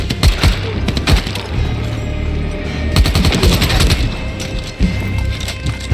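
Automatic gunfire in the video game Dying Light: The Beast, loud and near, with rapid bursts of shots rattling through the whole stretch over heavy low-end rumble.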